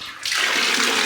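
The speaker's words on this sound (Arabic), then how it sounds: "بقول لكم ان انا بقى بملي البانيو اهو" Water gushes from a tap into a bathtub. The loud, steady rush starts abruptly after a brief quiet moment and continues close by, with no one talking.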